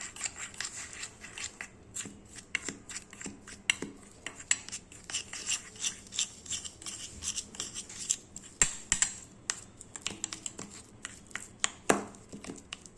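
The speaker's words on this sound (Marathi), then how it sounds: "ह्या तुपामध्ये आहे ना थोडंसं मैद्याचं पीठ आहे ना असं फेटून घ्यायचं" Maida flour being beaten into ghee in a bowl, a steady run of quick scraping and tapping strokes from the whisk against the bowl, close by with no one talking.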